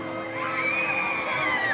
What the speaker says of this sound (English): she's screaming